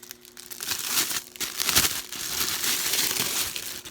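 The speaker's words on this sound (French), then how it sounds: "voilà, on va le déballer." Plastic packaging of a Nintendo Switch Lite carrying pouch crinkles and crackles as it is unwrapped up close, in a steady stream of rustling with a few sharper crunches and no talking.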